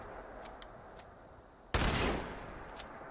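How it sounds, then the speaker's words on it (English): A shotgun in the video game Fallout 76 fires a single loud close blast that cuts through quiet game ambience, then trails off, with a few faint clicks before it. "Cool thing about the shotgun is that you can reload just one and then fire"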